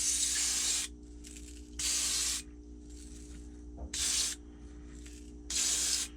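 Short bursts of spray paint hiss as a light coat of iridescent paint goes onto a dragonfly blank, four separate sprays of about half a second to a second each, close and steady, with a constant low hum between them.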